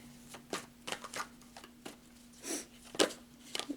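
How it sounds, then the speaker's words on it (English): Tarot cards being shuffled and spun around, soft papery riffles and flicks in irregular short bursts, faint and close, with a low steady hum underneath. "I already meditated and shuffled up the cards, but I just wanted to spin them around again"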